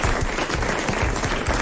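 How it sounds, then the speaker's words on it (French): Studio audience applause on a 1996 French television show: loud, dense, continuous clapping from a large crowd, filling the whole moment without any voices. "voilà, on les applaudit."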